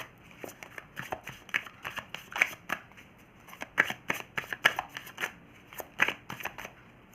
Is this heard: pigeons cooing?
no